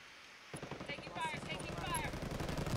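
Sustained automatic gunfire in Ghost Recon Wildlands starts abruptly and continues as a rapid, dense rattle around a mountain village church. It sounds fairly distant and quiet, with some radio-like voice chatter mixed in.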